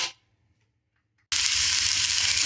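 Sliced onion hits a hot frying pan: after near silence, a sudden loud hissing sizzle bursts in and holds steady and close, with no voices.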